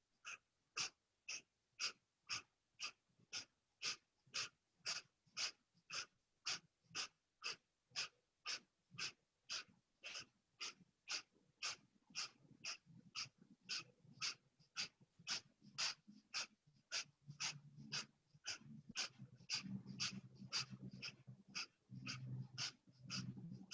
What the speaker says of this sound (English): Keep the breath of fire going.